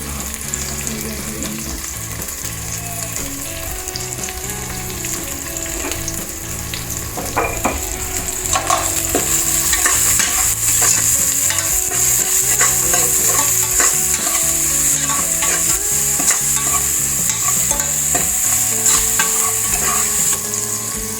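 Onions frying with salt in a pan, a loud continuous sizzle that swells louder midway, with background music underneath and no talk.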